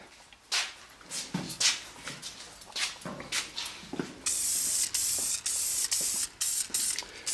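A 1946 Ford being spray painted on a chilly day: short hissing bursts from the spray gun, then longer, louder continuous sprays in quick succession.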